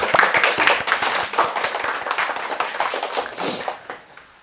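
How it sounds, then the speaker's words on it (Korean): A church congregation claps for newlyweds during a sermon, close and loud hand clapping with distinct individual claps, thinning and fading away toward the end. "우리 축하의 박수"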